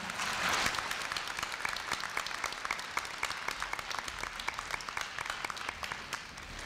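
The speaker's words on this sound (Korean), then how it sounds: "큰 박수로 맞이해 주시기 바랍니다" Audience applause at a 2015 Korea University freshman entrance ceremony, greeting a guest speaker: steady dense clapping from a large crowd in a hall, a brief louder swell near the start, then an even sustained patter with sharper individual claps standing out.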